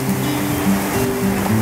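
Heavy rain pours down in a steady, dense roar with no breaks, loud and close, with a faint low hum running underneath and no voices.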